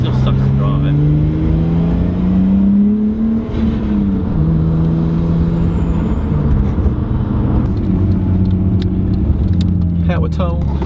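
A car engine drones steadily while driving, its low pitch rising and dipping with the throttle, with occasional faint rattles over the constant loud road noise.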